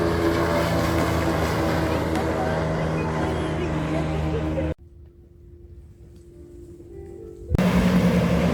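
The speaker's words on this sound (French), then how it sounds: "Ça y est, les bateaux de pêche commencent à partir" Fishing boat engines in Cambodia as the boats head out before dawn, a steady droning motor hum that cuts out abruptly midway, returns faintly, then comes back loud.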